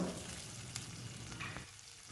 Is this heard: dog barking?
no